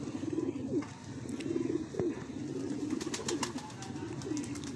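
Pigeons coo softly and continuously at a pigeon club, low murmuring calls with a few brief chirps and flutters, fairly quiet and close, with no talk over them.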